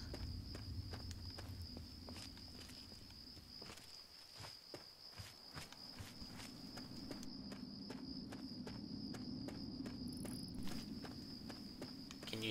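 Crickets in Fallout 3 keep up a faint, continuous high chirping over a low ambient bed, with soft footstep-like thuds passing underneath at low volume.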